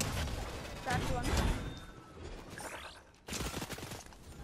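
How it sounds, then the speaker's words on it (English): Gunfire in Fortnite Chapter 5 Season 3 ranked play: bursts of rapid shots and impacts, loud early, a lull, then another burst, with a player's voice in places. "Where is this person shooting me from?"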